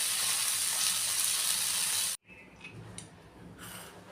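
Tomatoes frying in a pan for a cashew curry give a loud, steady broadband sizzle that cuts off abruptly, leaving faint clinks and quiet kitchen sounds.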